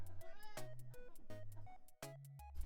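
Domestic cat meowing several times in quick succession, clear and close, with a varied pitch contour on each call and short pauses between them.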